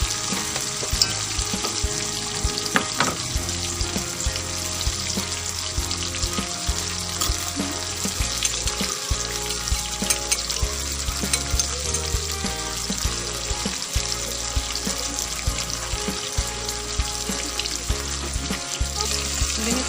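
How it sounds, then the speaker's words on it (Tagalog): Onions and tomatoes sautéing in a pan for sarciado fish give a steady, close sizzle with occasional stirring throughout, with no talking. "Gusto ko kasi ginigisa yung sibuyas kamatis."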